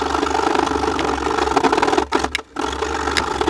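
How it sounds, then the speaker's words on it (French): A hacksaw cuts through a metal jewellery chain for a homemade necklace, giving a steady, close, loud grinding rasp with two brief pauses near the end before the sawing resumes. "j'ai dû carrément utiliser une scie à métaux"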